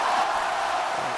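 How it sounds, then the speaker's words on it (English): A crowd noise sound effect is played back as a dense, loud roar of many voices, steady and unbroken throughout. "I'm going to give you a crowd noise."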